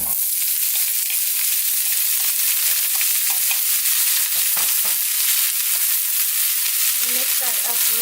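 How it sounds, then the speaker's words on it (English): Sliced scallions fry in olive oil in a pan, making a loud, continuous sizzle with light stirring clatter that grows busier near the end. No one speaks. "So while we let it sit, we're gonna cook our scallion."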